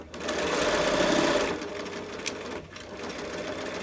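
A sewing machine stitches across mask elastic in a steady whirring run, pausing briefly at about a second and a half and then starting again, close and clear.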